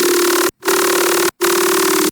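Serum synth Snailish Growl dubstep patch set as a sustain, three loud, dense, buzzing growl notes each held steadily with short silent gaps between them.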